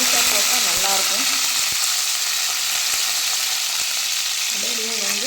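Whole shallots, green chillies and garlic fry in oil in a pot, giving a steady, close hiss and sizzle throughout, with occasional faint clinks and a brief murmur of voice near the end.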